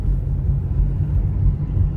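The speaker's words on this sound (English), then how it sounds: "traffic and chaos on these roads" Road traffic rumbles from inside a delivery driver's moving car, with low engine and tyre noise holding steady and no voices.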